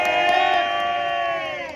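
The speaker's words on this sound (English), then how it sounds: "Everyone give a round of applause for Miss Kent." A crowd at a Downing Street protest in London cheers and whoops loudly for nearly two seconds, a dense sustained roar of voices.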